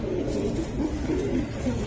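Racing pigeon cooing steadily in a continuous low murmur, close and moderately loud, with no speech over it.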